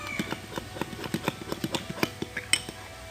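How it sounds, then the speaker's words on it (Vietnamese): Homemade slime mixture stirred in a bowl, a steady run of sharp clicking and tapping strokes against the bowl sides, close and fairly quiet, with no talk. "Khuấy đều cả đều nhá"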